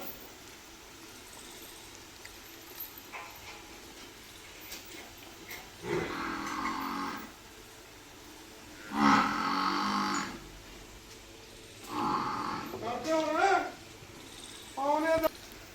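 A water buffalo in farm fields gives several long, low moos, spaced apart over steady outdoor background noise.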